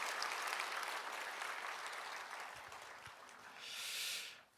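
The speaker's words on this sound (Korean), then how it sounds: "우리 큰 박수로 환영하시고 축복하겠습니다" A church congregation at a Sunday worship service applauds loudly to welcome and bless a child, a full, continuous round of clapping that swells briefly near the end before cutting off.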